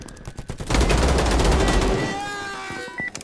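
Gunfire in the video game VLADiK BRUTAL, a Russian shooter: scattered shots, then a loud sustained burst of automatic fire lasting over a second, fading into ringing echoes with a few trailing shots.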